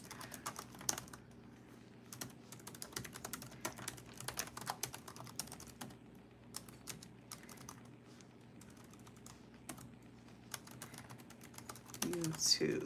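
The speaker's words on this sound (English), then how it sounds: "I'm just typing a few things in the chat" Quiet bursts of typing on a computer keyboard, irregular clusters of light key clicks close to the microphone over a faint steady hum.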